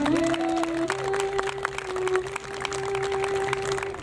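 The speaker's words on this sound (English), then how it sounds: "I'd like to give a big round of applause for our cellist" An outdoor audience at the 73rd annual Maine Lobster Festival Sea Goddess coronation applauds a cellist, steady light clapping spread across the crowd, moderately distant, with a sustained electronic tone humming underneath.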